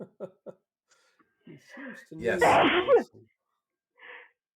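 A single loud, sharp sneeze bursts out in the middle of a conversation, close to the microphone, with people speaking briefly before and after it.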